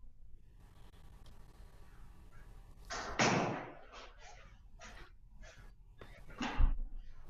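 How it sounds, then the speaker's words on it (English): An office door shut at a distance, a muffled thud midway followed by several short clunks and knocks, then a final heavier bump, all faint against a quiet room with no talking. "I'm gonna get up and shut my office door"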